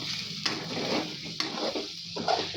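A spoon stirs egg and bitter gourd (kakarakaya) frying in a pan, with soft scraping strokes and a few sharp taps against the pan over a quiet background sizzle.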